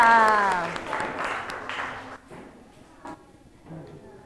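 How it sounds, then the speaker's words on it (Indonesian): A group of teachers in a classroom session on inclusive schooling claps together, loud for about two seconds before fading into quieter room sound with scattered movement. "tepuk tangan buat kita semuanya"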